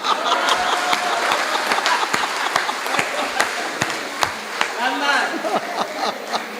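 An audience at a Hindi comedy poetry gathering breaks into sustained applause, a dense, even patter of many hands clapping that carries on without pause.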